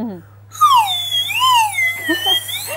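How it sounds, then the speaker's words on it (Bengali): A straw blown in a glass of water while being moved up and down makes a close whistle that glides up and down in pitch like a wailing siren, with a brief sputter near the end. "পুরো পুলিশের সাইরেনের মতো শোনাচ্ছে। হ্যাঁ, সাইরেনের মতো করে সাউন্ডটা চেঞ্জ হচ্ছে।"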